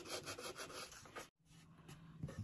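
Sanding a painted wood tray by hand: steady close rubbing strokes in a quick rhythm, a brief pause, then slower scraping strokes resume, quiet and alone.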